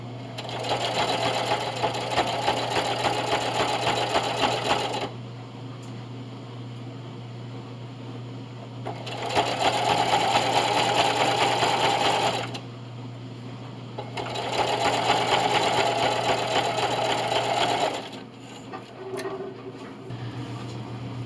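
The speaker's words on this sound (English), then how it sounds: "I'm just going to line up the edge of my bias binding with the middle of my foot and sew it down with that zigzag stitch" A sewing machine runs a zigzag stitch to attach bias binding on a quilted double oven mitt hot pad, whirring steadily in three separate bursts of about five seconds each, with quiet pauses between them.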